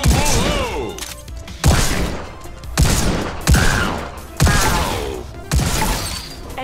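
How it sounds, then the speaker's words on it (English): Energy rifle fire in the Robo Recall VR shooter comes as repeated sharp synthetic bursts, about five in a rapid rhythm, each with a crackling electronic tail and a shattering edge. "It has an energy rifle."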